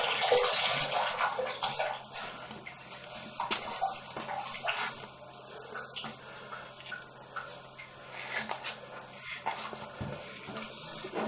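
Water runs from a bathtub tap in a house bathroom, a steady splashing rush with gurgling and light clatter, close by and without speech.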